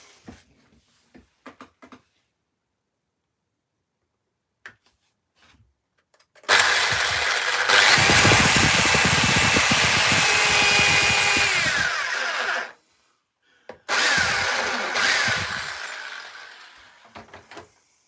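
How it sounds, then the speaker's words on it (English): A power drill boring a hole in wood, starting abruptly and whining steadily for several seconds, stopping, then a second shorter burst; quiet handling clicks come before it. "Right, let's drill the hole."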